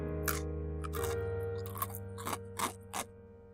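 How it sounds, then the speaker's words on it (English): Crunching and scraping as if on bone, heard from beyond a bedroom door: a series of separate crunches bursting out over a low, steady drone, growing sharper and more frequent toward the end, with no voices. "I could still hear it, the crunching sound from beyond the door."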